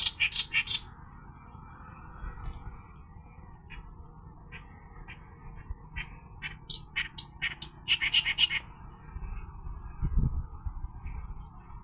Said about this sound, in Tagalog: Lapit na natin makita yung ibon oh.